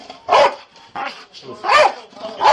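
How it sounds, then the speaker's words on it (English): A dog barks several times in short, loud bursts, close to the microphone, with gaps between barks and no speech over them. "Like the dog is distracting you."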